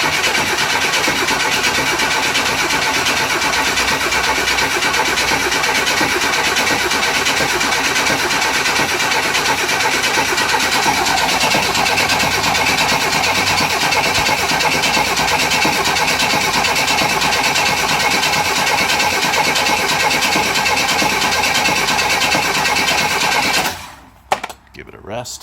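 A 1963 Chevy Nova with a 194 engine cranking over on its first fire attempt, a long continuous loud grinding whir of the starter that stops abruptly near the end without catching.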